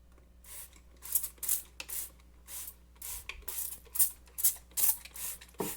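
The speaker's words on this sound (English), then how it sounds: "I wash the trough by rinsing and then scrubbing with a bottle brush, or you could use a toothbrush." A bottle brush scrubs a concrete microgreen trough in quick bristly strokes, about a dozen short rasping bursts in an uneven rhythm, close and moderately loud.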